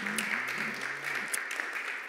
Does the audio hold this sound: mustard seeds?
no